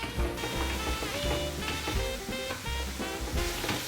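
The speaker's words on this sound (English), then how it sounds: "Just get to stirring this for a good 3 to 4 minutes till it darkens in color." Flour stirred into a roux in a pan, a steady soft scraping and light sizzle that runs continuously without pause.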